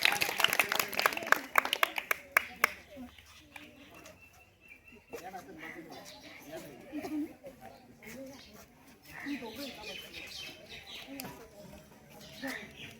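Applause for the winning quiz team at a village school, a burst of loud clapping from a group that fades after a few seconds, followed by murmuring voices and talk.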